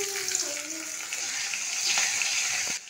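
Bay leaf, nigella seeds and green chillies crackle and sizzle in hot oil after fish has been fried, a steady close hiss with small pops and a faint stirring scrape near the end.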